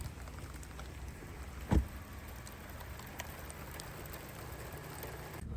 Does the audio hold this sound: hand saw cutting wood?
no